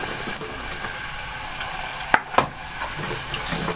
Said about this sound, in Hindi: अब इस प्याज को मैं ब्राउन कर लूँगी।